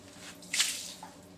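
Water tipped out of a filter canister from a HiFlo RO30 water filtration unit during a filter change, a short close splash and drip rising to a brief burst then trailing off.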